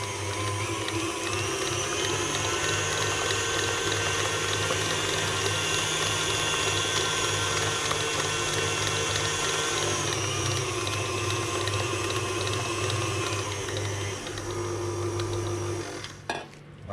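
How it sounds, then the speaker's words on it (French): An electric mixer beating choux pastry dough, a steady droning motor hum with a whirring whine on top, running continuously and close before cutting off near the end. "On pourra pousser la vitesse du batteur."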